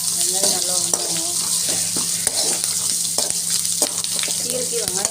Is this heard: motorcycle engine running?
no